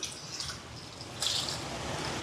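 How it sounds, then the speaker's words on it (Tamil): Water trickles and splashes into a pot of lentils in a short, steady pour, close by and fairly quiet, with no talking. "பருப்பு பால் கறிக்கு தண்ணி சேர்ப்போம்."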